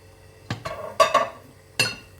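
Spinach pan bread is flipped from a frying pan onto a dish with a few sharp metallic clanks and a clatter, four distinct knocks in quick succession, close and fairly loud.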